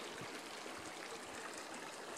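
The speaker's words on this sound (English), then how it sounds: "Water's boiling." Water boiling in a pot over a campfire at a wild campsite, a steady, soft rushing and bubbling hiss that continues without break.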